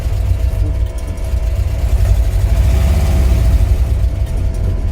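A 1990 LuAZ 969M drives in four-wheel drive with a continuous low, rumbling engine drone and steady mechanical hum, fairly loud and close, with no talking.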